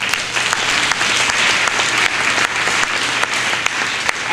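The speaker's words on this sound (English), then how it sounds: "Give them a round of applause." Sustained audience applause at a Muncie community event, a dense steady wash of many hands clapping, loud and close throughout with no talking over it.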